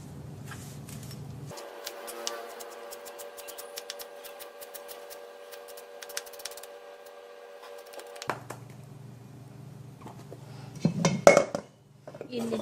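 A knife chops fresh cilantro on a cutting board in a kitchen, a fast run of crisp close cuts and taps followed by a few heavier knocks near the end.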